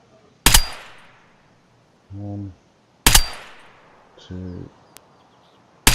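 Two loud, sharp rifle shots ring out in the video game Escape from Tarkov while firing at a 200 m target, spaced a few seconds apart, each with a fading tail, and a voice counts in between.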